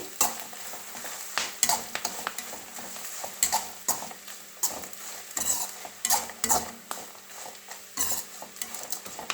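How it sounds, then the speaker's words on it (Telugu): Coconut rice with grated fresh coconut and pepper powder being stirred in a pan, a utensil scraping and clinking against the metal in an irregular rhythm over a steady soft sizzle of coconut oil, close and alone. "కొద్దిగా మిరియాల పౌడర్ ఒకసారి బాగా కలియబెట్టుకోండి"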